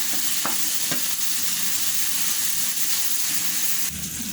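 Cumin seeds, cardamom and ground coriander sizzle in a hot pan while being stirred, a steady crackling fry with a few scraping stir strokes, close and loud.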